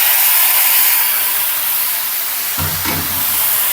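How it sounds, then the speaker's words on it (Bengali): Bori, panch phoron, garlic and onion hit hot oil with a loud, steady hiss and sizzle, swelling briefly into a sharper crackling burst near the end. "এখন বড়ি পাঁচফোড়ন রসুন পেঁয়াজ দিয়ে তেলে দিয়ে দিচ্ছি"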